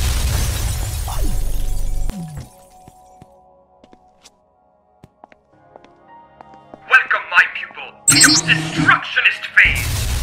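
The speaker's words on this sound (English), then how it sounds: "Now refine all the big glass into billions of tiny glass!" Glass shattering in the video game Gravitas, bursts of bright crashing fragments arriving late after a quiet stretch, preceded by game noise and a voice talking early on.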